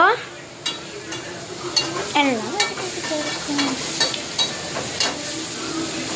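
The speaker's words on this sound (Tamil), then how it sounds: "அப்புறம் கேப்சிகம் போட்டுக்குவோம். கேப்சிகம் நல்லா வதங்கட்டும்." Capsicum sizzles in a hot pan while a spatula stirs and scrapes in a string of sharp taps over a steady frying hiss.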